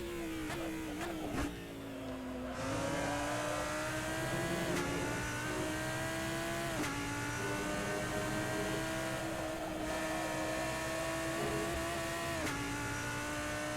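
A GT3 race car engine at Road America in Assetto Corsa revs hard and climbs through the gears, each rising whine cut by sharp upshifts, continuous, close and loud, with no talking.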